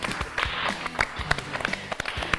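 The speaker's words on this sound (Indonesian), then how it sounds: "Tepuk tangan dong buat kita semua." Scattered hand claps from a small studio crew and cast, a handful of sharp, close claps spread over a couple of seconds with faint murmuring underneath.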